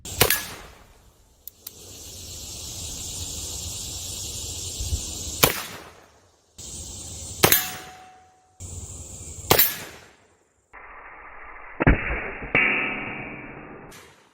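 LeMat revolver from Red Dead Redemption 2, a single-action 1855 design, firing both its main barrel and its shotgun barrel: several sharp, loud gunshots with ringing tails, spaced a couple of seconds apart, with no one talking.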